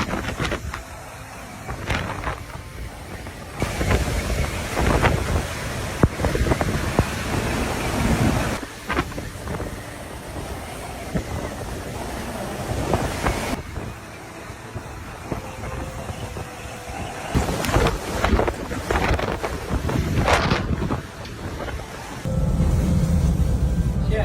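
Hurricane Ida's raging winds and surf batter a barge at Grand Isle, a loud, continuous roar of wind noise and crashing waves with sudden gusting bursts and rumbling low end throughout, no voices.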